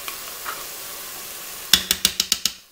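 Onions, lardons and crème fraîche being stirred in a Cookeo multicooker: a quiet hiss first, then a rapid run of about six sharp spoon scrapes against the pot, loud and close, with no talking.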